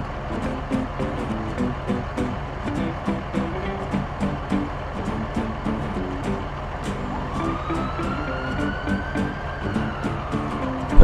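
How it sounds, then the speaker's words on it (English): Police car siren wailing continuously over a steady vehicle engine rumble, loud and close throughout, with a separate rising tone entering partway through. "Police car."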